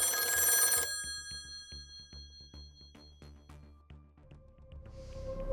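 A telephone bell rings in a tense corporate kidnap-incident setting, opening with a loud, bright burst that gives way to lingering, decaying tones. No voices are heard.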